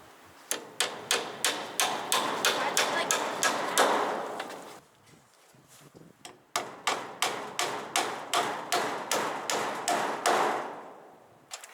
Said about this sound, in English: Typically I just nail everything.